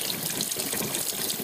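A tap runs steadily over a bar of felted soap, a continuous close splashing hiss of water with no voices.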